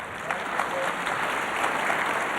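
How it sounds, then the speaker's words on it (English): Crowd applause at a 1981 professional wrestling match, a steady wash of clapping from the arena audience, fairly loud and continuous with faint voices underneath. "Hear the applause from the crowd here."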